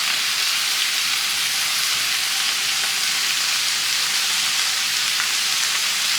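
Garden greens seasoned with herb salt fry in a pan, a dense close crackling sizzle that holds steady with faint stirring, no voices.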